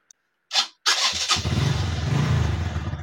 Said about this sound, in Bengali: একবার স্টার্ট করে দেখি স্টার্ট হচ্ছে কিনা।